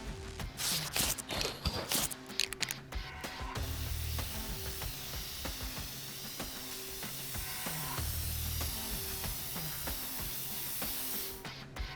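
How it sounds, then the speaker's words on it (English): Steady hissing spray paint from a can in the video game inFAMOUS Second Son, a long continuous spray with rattling and clicking at the start, close and moderately loud. "I like to go a little overboard with my spray paint"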